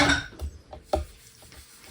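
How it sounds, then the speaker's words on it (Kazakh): Dishes being washed by hand at home give a few scattered, quiet clinks and clatters of crockery, with no talking. "Иә, ару жартысын жусын, Назым жуып жасасын."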